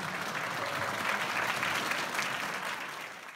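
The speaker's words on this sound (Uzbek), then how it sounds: "zalda olqish sadosi ko'tarildi" A hall audience breaks into sustained applause, a dense wash of many hands clapping that swells slightly in the middle and then begins to fade, with no voices rising above it.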